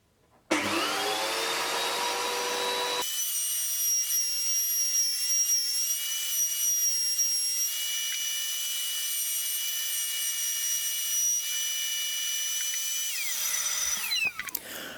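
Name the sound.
router cutting wood stock for synthesizer stand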